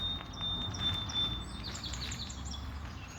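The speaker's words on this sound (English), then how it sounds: "Do you hear the birds?" Faint, high chirps from several birds scattered through the clip, distant and soft over a low background rumble, with no talking.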